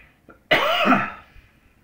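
A single sharp cough, close and fairly loud, after a faint brief sound, then quiet.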